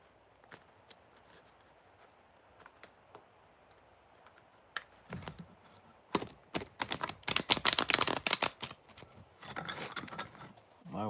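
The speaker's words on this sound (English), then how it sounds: "Alright, two more shuffles real quick." Tarot cards being shuffled for a Taurus love reading, a run of quick, crisp riffling flutters that build into a dense, loud burst of overlapping card slaps before easing off.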